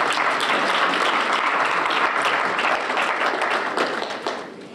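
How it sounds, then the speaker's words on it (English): Indoor audience at a university Women's Day celebration applauds in dense, sustained clapping that holds steady and then tapers off toward the end. "Dean Carla Martin, please give her a round of applause."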